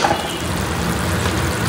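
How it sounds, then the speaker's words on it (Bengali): Ground spices of chili, turmeric, coriander and cumin with salt sizzle and fry in a pan for a minced beef dish, a steady close crackling hiss throughout with no voices. "এখন ভালো করে মশলাটা কষাবো।"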